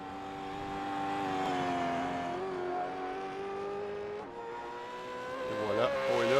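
V8 Supercar race cars at Detroit whine past on track with sustained, steady engine tones that rise and shift in pitch, a higher-revving car surging near the end, under an excited commentator's voice.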